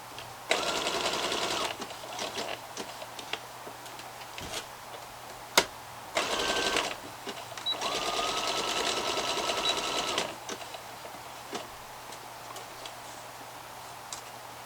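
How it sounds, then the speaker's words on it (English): A sewing machine running a zigzag stitch on a leggings band, in several bursts of rapid whirring with short pauses between them, and one longer steady run. "I'm going to stick with the zigzag stitch to be honest. Just sew round in a box to make sure that that's nice and strong."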